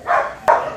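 Dogs at an animal shelter give two sharp barks in quick succession, close and loud, with no talking over them.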